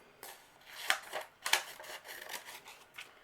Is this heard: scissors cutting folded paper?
yes